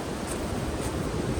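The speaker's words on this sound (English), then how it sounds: "That wind has really kicked up." Strong gusting wind roars steadily across a wooded mountain trail on the Art Loeb Trail in North Carolina, a dense, rushing noise with no voices.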